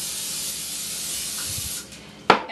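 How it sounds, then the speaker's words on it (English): A steady hiss of cooking spray from an aerosol can lasting about two seconds, then a short sharp click or tap at the end. "I'm going to just spray a cooking spray on top of these."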